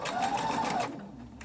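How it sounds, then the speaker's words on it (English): A sewing machine chain stitching fabric runs in a quick steady whir for under a second, then stops, leaving faint room noise. "And again, we're just chain stitching."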